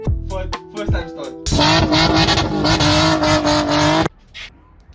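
A Toyota Cressida fitted with a swapped Nissan VQ35HR V6 cranks briefly, then catches and roars into a loud, steady idle with revving for a few seconds before cutting off abruptly.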